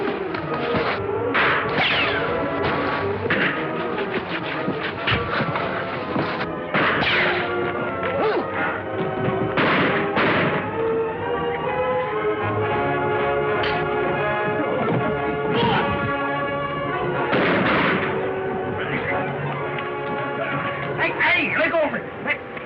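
Gunfire in a fight in an old western TV episode: repeated sharp shots crack out irregularly amid shouting voices and hoofbeats, all loud and close.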